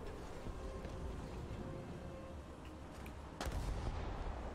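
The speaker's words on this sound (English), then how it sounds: "I put three artilleries out so far, Jay." Artillery fire in a video game: a low, distant rumble, then a single heavy boom about two-thirds of the way through that leaves the background louder.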